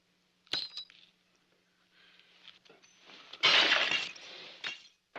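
Drinking glasses smashed after a toast in an officers' mess: a sharp clink, then a loud burst of shattering glass with tinkling shards, close and without talk.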